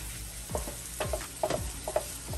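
Onions and peppers fry in oil for seafood fried rice, giving a soft, steady sizzle close by, with a few scraping stirs of a utensil against the pan at irregular intervals.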